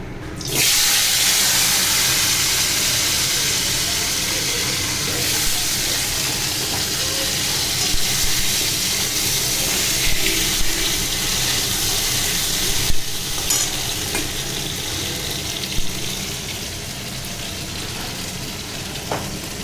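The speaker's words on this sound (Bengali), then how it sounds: "এবার আলুটা ভেজে নেব" Steady crackling sizzle of potatoes frying in hot oil, continuous and close, with a few small clinks and stirring noises partway through.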